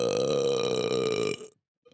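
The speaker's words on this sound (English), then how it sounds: "That was a dad burp." A single loud, deep, drawn-out burp from a man, close to the mic, lasting over a second before cutting off into silence.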